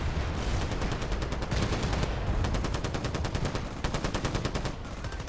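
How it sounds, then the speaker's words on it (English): Rapid automatic gunfire bursts from a first-person shooter match in Battlefield Play4Free, loud and sustained across the whole clip with repeated rattling volleys and no talk. "Looks like there's a guy over there shooting at us."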